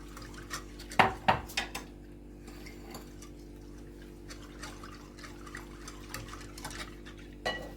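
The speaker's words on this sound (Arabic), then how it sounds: "صبينا هنا معلقتين زبادي فراوله" Spoon clinking against a bowl while strawberry yogurt is spooned in for homemade yogurt, a quick burst of close clatter then sparse light taps and scrapes.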